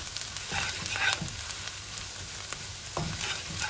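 Softened onions frying in a pan for a katsu curry sauce, a steady close sizzle broken by a few scraping stirs.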